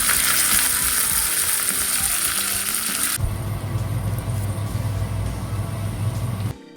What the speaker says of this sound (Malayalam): ഇനി ഇതിലേക്ക് കടുക് വറുത്തിടാം.